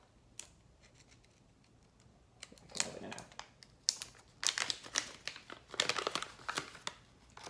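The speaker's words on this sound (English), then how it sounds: "So next step is to cut open the pouch" Scissors cut open a plastic specimen pouch for an at-home A1c test, making a series of close, sharp snips and crinkles that grow busier toward the end. Soft talk runs underneath.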